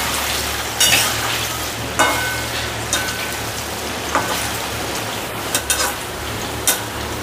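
Paneer frying in a pan gives a dense, steady sizzle like rain on a surface, broken by sharp spatula taps and turns about once a second or so, with no talk.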